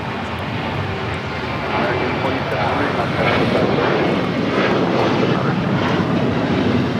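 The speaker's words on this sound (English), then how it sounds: "is Korean Air Flight 17 coming in from Seoul" A Korean Air airliner arriving at Los Angeles airport roars with a broad, steady jet rumble that swells slightly midway, heard from a distance.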